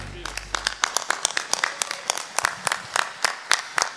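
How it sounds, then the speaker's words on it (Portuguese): A church congregation at a Sunday service in Orlando claps together, with sharp, scattered claps ringing close and fairly loud after a brief low hum. "Podemos aplaudi-los?"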